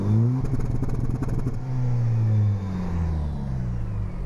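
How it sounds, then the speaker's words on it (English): Engine of a 2025 Toyota 4Runner TRD Pro revved hard from close behind the vehicle, a deep rising roar that climbs, holds, then settles back to a lower idle-like drone, with some clatter early on. "give me some revs back here"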